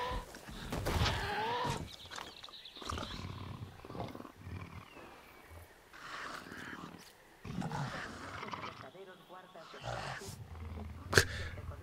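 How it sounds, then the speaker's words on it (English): Dilophosaurus dinosaur calls in the video game Jurassic World Evolution: growling, roaring creature noises rise and fall amid game ambience, with someone talking over them throughout. "Why the hell are you making Dilophosaurus noises?"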